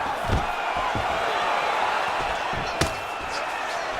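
Arena crowd noise from a UFC 4 fight video game, a steady roar with sharp thuds of strikes landing, one louder impact standing out midway.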